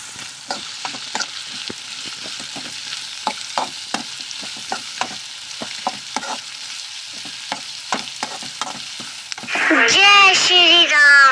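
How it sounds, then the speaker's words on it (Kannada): Green chillies fry in a pan for chitranna while a spoon stirs them with repeated scraping strokes over a soft sizzle. A voice rises loudly near the end. "ಈಗ ನೋಡಿ ಮೆಣಸಿನ್ಕಾಯನ್ನು ಹಾಕ್ಕೊಳ್ಳೋಣ."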